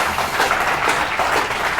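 Studio audience applause during a live French-language broadcast tribute, a dense steady patter of many hands clapping close and continuous throughout.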